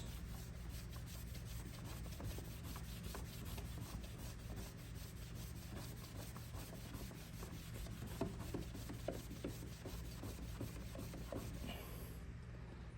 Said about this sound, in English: So I'll apply some of this rubbing compound and start from here.